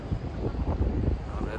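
Outdoor wind buffets a microphone in low, rumbling gusts that swell and ease across the short stretch, dense and close with no clear voice above it.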